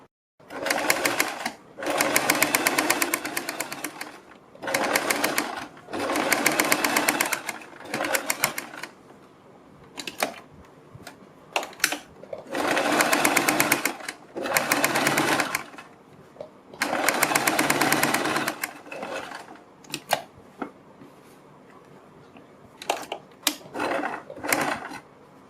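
A sewing machine stitches a neckline seam on a kurti in repeated loud, close runs of rapid stitching, each lasting a second or two and separated by short pauses.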